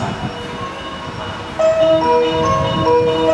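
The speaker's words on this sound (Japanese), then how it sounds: "12番乗り場列車が通過します" A JR 285 series Sunrise Izumo sleeper express train rumbles through Shin-Osaka station with a steady low roar, joined midway by sustained high metallic wheel squeals that grow louder and layer over each other.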